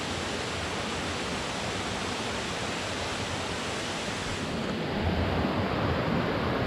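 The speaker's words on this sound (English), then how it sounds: "Such a beautiful river with the cascades of foam." A wild river in monsoon season pours over cascades of foam, giving a dense, steady broadband roar of rushing water that holds constant and fairly loud throughout, with no voices or other sounds breaking through.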